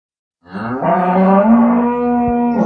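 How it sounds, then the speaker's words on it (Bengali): A high-quality dairy cow gives a single long, loud, close moo that starts after a brief silence and holds steadily to the end, with no talk. "এটা অনেক উন্নত গরু দেখেন"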